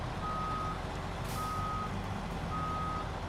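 Kenworth truck reversing in a video game: three evenly spaced, steady electronic backup beeps sound over a constant low diesel rumble, with no talking.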